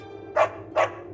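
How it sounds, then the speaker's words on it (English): A dog barks twice in quick succession, two short, fairly close woofs over a quiet background. "That's my dog right there."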